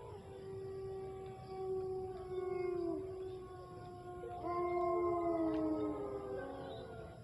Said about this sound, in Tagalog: Aso na yan.